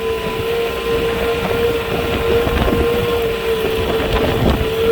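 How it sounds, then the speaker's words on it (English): Strong wind of about 40 to 60 mph at a Joshua Tree home build site roars and buffets steadily and loudly, with a constant rushing blast and a low whistling tone throughout. "that wind's just whipping"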